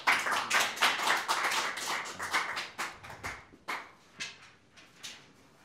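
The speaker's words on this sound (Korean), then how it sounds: "큰 박수로 모셔주시기 바랍니다." A seated audience at a Korean policy forum claps to welcome a speaker. Dense, close applause rings out and then thins to a few scattered, fading claps.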